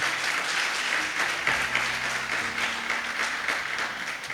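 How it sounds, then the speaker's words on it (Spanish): Church congregation applauding after a call from the pulpit, a steady wash of clapping filling the room at moderate loudness with a faint low tone underneath. "No sé si podemos darle un fuerte aplauso a esta maravillosa iglesia."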